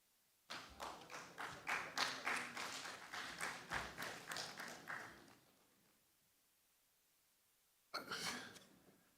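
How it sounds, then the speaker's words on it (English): Clapping from a conference audience, a short burst of rhythmic applause for about five seconds that fades out, then a brief second burst near the end. "I hear clapping."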